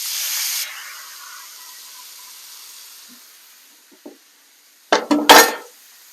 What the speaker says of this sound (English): You hear that good sear?